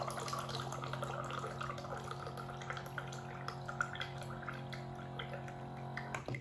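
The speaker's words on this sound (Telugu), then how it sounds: "ఒక గ్లాస్ తీసుకొని చెక్ చేద్దాం చాలా ఫాస్ట్ గా అయితే వాటర్ వచ్చేస్తుంది" A one-touch mineral water can dispenser pours water into a glass in a quiet, steady stream over a low hum, cutting off just before the end.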